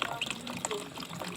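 Clear mountain spring water in Palo, Leyte, running in a soft, steady, faint splashing stream, heard briefly while someone talks nearby.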